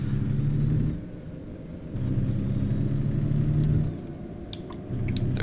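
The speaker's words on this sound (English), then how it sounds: "There is a car coming." A car passes by in American Truck Simulator, a steady low engine rumble and whir that swells, dips briefly, then rises again as it goes past, close and fairly loud with no talk.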